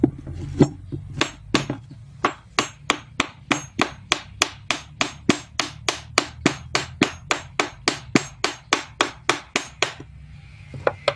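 Bolts are tightened on joined wooden boards with a long run of sharp, evenly spaced clicks, about three per second, close by and loud, then stopping.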